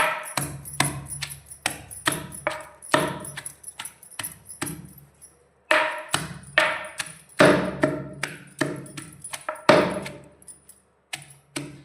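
Raw mango being pounded with salt and chilli under a heavy wooden pestle, a steady run of sharp, close thuds and crushing knocks with short pauses between bursts.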